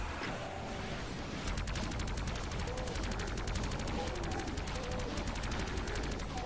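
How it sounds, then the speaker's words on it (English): Rocket launcher firing in the Doom game, an UAC HQ map of a megawad: repeated booming blasts and rapid impacts over steady game noise, loud and continuous through the stretch, without any speech over it. "All right, rocket launcher."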